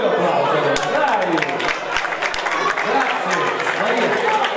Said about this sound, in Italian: facciamo un bel applauso